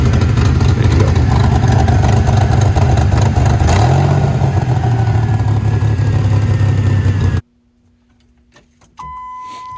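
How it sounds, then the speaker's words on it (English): 1989 Pontiac Firebird engine runs loud and close, idling with a brief rev partway through, then cuts off abruptly to near silence with faint clicks and a tone. "This is what the engine sounds like."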